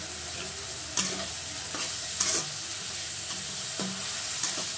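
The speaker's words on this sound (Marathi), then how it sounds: "आपण हा ठेचा इथं टाकणार आहोत." Crushed green chili thecha sizzles over boiled potatoes in a pan while a spatula stirs, with several sharp scraping strokes spaced about a second apart over a continuous close frying hiss and no voices.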